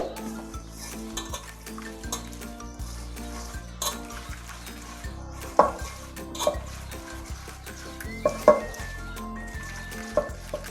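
A spoon stirs Karav fish curry with masala paste in a pot, scraping and clinking against the metal in an uneven rhythm as a soft sizzle carries on underneath, close and steady with no voices.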